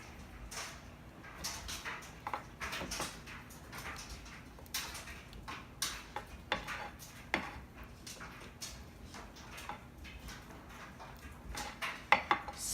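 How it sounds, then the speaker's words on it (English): A spatula spreads filling across a baking dish for stuffed shells, making repeated soft scrapes and light taps at close range in an uneven rhythm. "Make sure you grab like a spatula or something. Make sure to spread it through the whole thing."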